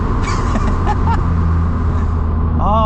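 A Lotus Elise with a modified exhaust idles and revs close by, a loud steady engine note rising into a shrill whine near the end, with a voice talking briefly.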